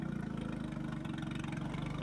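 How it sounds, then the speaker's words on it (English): A trials car with a Willie Cook-prepared, LPG-fuelled Honda engine idles at a 1994 sporting trial, giving a steady, fairly quiet low engine hum throughout. "this car has one of those ingenious Willie Cook-prepared LPG-fueled Honda engines in it"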